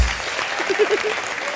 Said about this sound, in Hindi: जोरदार तालियां भारती और करण के लिए